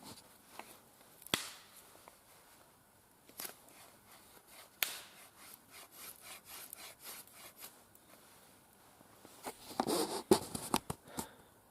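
A Hultafors craftsman knife scrapes and shaves wood in short, irregular strokes, close and fairly quiet, with a denser burst of cutting near the end.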